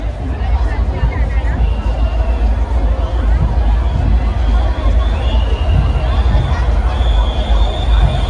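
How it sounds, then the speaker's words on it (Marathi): A dense crowd bustles at a Ganpati procession, a constant loud hubbub of many voices and chatter with nearby people talking over it. "लय गर्दी रे."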